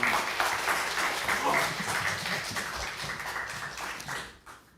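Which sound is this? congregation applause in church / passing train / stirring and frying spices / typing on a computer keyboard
congregation applause in church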